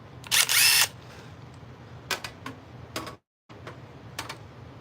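A cordless drill whirs in a short burst while driving screws into a PC case, followed by a few light clicks and ticks of the drill's clutch and handling, then a brief silent gap.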